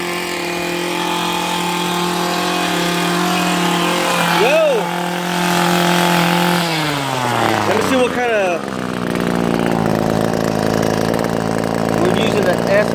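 An Echo SHC 266 hedge trimmer running, its small two-stroke engine holding a steady buzzing whine that dips and rises in pitch, with a voice speaking over it.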